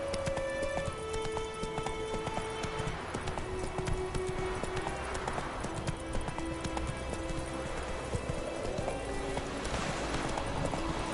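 Hooves of the horse Roach galloping in the video game The Witcher 3, a fast rhythmic clip-clop pounding steadily and close throughout, over layered game music and ambience.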